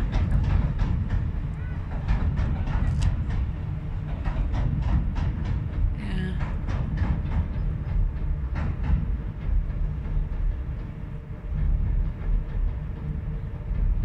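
A high-speed train passes near Medway with a steady loud rumble and rapid rhythmic clickety-clack of wheels over rail joints, the sound sustained for over ten seconds.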